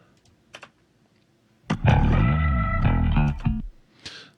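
A song intro from a mix breakdown, where an organ or keyboard slide and a bass slide play together, sweeping pitch in a sustained loud burst after a quiet start with faint clicks.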